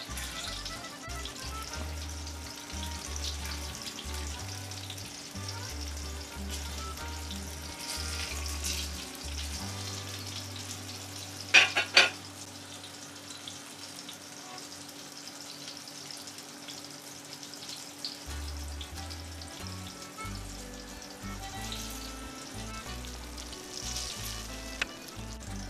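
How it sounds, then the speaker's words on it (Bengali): Ridge gourd fritters fry gently on low heat, giving a soft, continuous sizzle with a brief cluster of utensil clinks partway through and occasional faint taps. "সিমে সিমে ফ্রাই করলে খেতে খুব টেস্টি হবে।"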